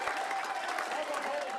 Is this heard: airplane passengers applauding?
yes